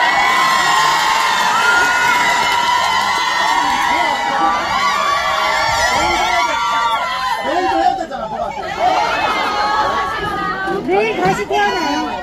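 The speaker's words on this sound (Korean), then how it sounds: "아니 함성소리가 엄청 큰데요?" Large crowd of fan club members at a festival meet-up, cheering and shouting loudly and continuously, with high excited voices and chatter layered throughout, swelling again near the end.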